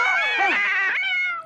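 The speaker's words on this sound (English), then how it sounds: "they even got the cat jump scare" Sudden cat screech used as a jump scare in a slasher-style movie scene, a loud harmonic yowl sustained for over a second and cutting off sharply near the end.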